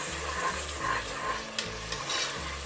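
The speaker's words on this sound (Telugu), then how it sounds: "ఇది కొంచెం పచ్చి వాసన పోయి తడి అంతా ఎగిరే వరకు వేయించుకోవాలి." Tomato paste fries in a pan for a mixed vegetable curry, a close, steady sizzle under rhythmic stirring strokes that scrape about every half second.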